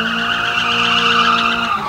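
A drift car slides hard through a corner, tires squealing loudly with a high, sustained screech over a roaring engine, close and continuous.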